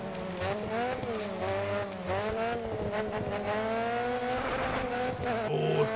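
A BTCC touring car in the Grid Autosport racing game exits a corner without traction control, its engine snarling loudly and continuously through rising and falling revs, with tyre scrub and a squeal near the end.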